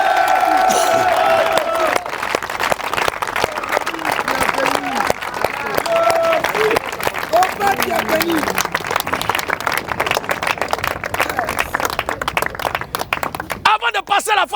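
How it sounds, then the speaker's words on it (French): A church audience applauds and cheers in acclaim of Jesus Christ, dense steady clapping filling the space with scattered whoops, continuing loudly throughout before a brief louder burst at the end. "On acclame le Seigneur Jésus-Christ."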